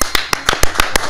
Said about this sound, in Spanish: Me gusta que todos aplaudimos al mismo tiempo